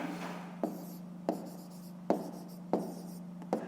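Handwriting with a pen on paper while working a fifth-grade math exercise, quiet scratchy strokes close by, with five sharp taps at regular intervals over a steady low hum.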